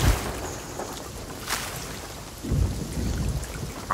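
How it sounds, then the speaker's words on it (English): Stormy weather in the Sea of Thieves game, with steady rain hiss at sea and a low rumble of thunder rolling in near the end, with no talking. "Almost in the center of the storm."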